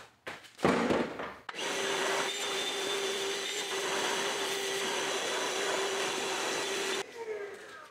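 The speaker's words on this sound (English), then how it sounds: "So you can just carry this around, do your vacuuming." A handheld cordless vacuum cleaner runs steadily at close range for about six seconds with a bright motor whine, starting after brief handling clatter and cutting off sharply near the end.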